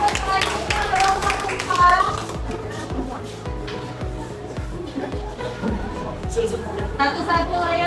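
Children in a classroom clap for a group, a dense run of quick, close claps mixed with children's voices and chatter.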